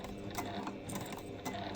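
A sewing machine fitted with a sturdy needle stitching through many layers of fabric for a rolled bag handle. It runs in a quiet, steady mechanical chatter with a couple of brief louder knocks.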